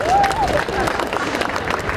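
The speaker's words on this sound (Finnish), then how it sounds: "Kiitoksia Mikael Granlund, annetaan raikuvat aplodit." An indoor crowd applauds and cheers for ice hockey player Mikael Granlund. A short whistle-like tone sounds near the start, and voices carry under the clapping.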